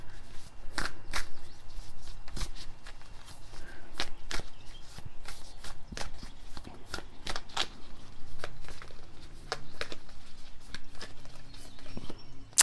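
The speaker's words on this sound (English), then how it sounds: "let's close out with some oracle cards" Oracle cards being shuffled by hand make a steady run of crisp, close riffling and slapping card sounds, repeating in quick irregular bursts throughout.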